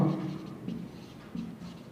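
Pen or chalk writing out a geometry solution, soft close scratching strokes in short bursts, faint and without talk.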